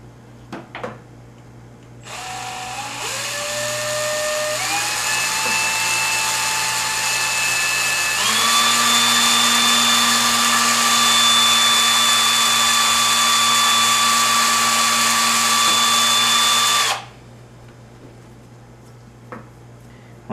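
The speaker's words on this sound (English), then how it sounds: "I'm going to start by drilling the back 2 holes." A power drill whirs up through rising pitches, then holds a steady high whine for several seconds before cutting off abruptly, drilling holes for a Bigsby B16 vibrato installation on a guitar; close and loud, no speech.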